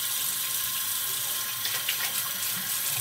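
Tap water runs steadily over a shaving soap puck at a sink, a loud, continuous hissing rush with light splashy flutter and no voices.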